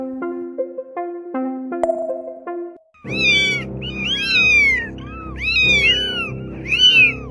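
A pet cat meows several times in a row, loud and close, with rising and falling calls. Before the meows, a plinking melodic tune plays.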